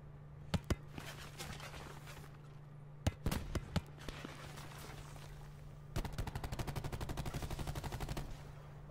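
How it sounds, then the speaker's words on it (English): Bursts of gunfire from the shooter game Black Ops 4: a few sharp single shots early, then a rapid sustained automatic burst near the end, fairly quiet and distant over a steady background hum. "Oh shit, there's people shooting"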